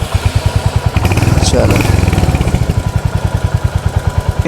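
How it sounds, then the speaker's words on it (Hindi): A motorbike engine fires and settles into a fast, even putter, loud and close, with a brief surge of revving in the middle; someone speaks a word over it. "स्टार्ट करते हैं अपनी बाइक एंड बस चलते हैं भाई"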